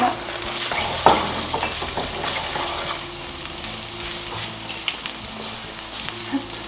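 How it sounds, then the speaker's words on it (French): Sesame paste frying in a pan over lowered heat, a continuous sizzle with scraping stir strokes and a sharp clink early on, close and fairly loud. "je vais juste baisser un petit peu le feu et je vais mettre la pâte de sésame"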